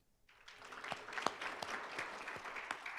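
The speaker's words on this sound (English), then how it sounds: "Give yourselves a round of applause." A crowd at a university awards ceremony applauds steadily, a dense patter of many hands clapping that builds quickly after a brief quiet start and holds through.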